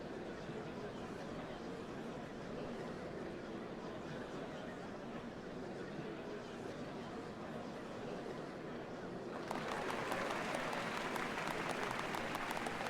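A crowd in Final Fantasy XIV applauds steadily at a ceremony, a dense wash of clapping that grows brighter and louder near the end.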